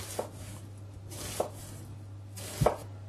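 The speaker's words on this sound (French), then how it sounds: "Et maintenant, on coupe dans l'autre sens." Vegetables for a flan are sliced crosswise with a knife on a board: three separate crisp chopping taps spaced about a second apart, close and fairly quiet, over a faint low hum.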